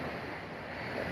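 Ocean waves at a beach, a steady broadband wash of surf mixed with wind buffeting the microphone, with no voices, over about a second.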